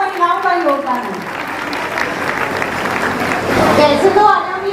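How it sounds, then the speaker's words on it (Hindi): An audience claps at a women's association gathering during a Jain Daslakshan festival program, the applause building to a fuller wash near the end while a voice speaks over its start. "हम सबकी तरफ से तो तालियां होनी चाहिए"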